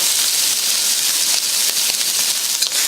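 Beef sears in a hot wok over high heat, giving a steady, loud, close sizzle with a bright hissing spatter that holds evenly from start to finish, with no voices.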